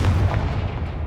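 Confringo explosive spell cast in the Hogwarts Legacy video game, a loud booming blast with a rumbling low-end burst that sustains for about a second, alone without talk.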